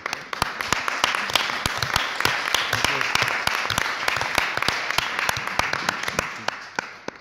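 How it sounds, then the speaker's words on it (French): Applause from an audience at a presentation of a museum project, dense clapping with many sharp individual claps standing out, sustained and steady for the whole stretch. "Oui, on peut applaudir"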